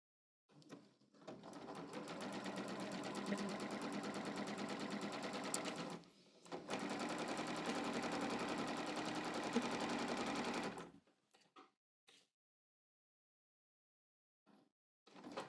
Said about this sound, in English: I'm going to stitch from the right side and sew 1/4 of an inch from the edge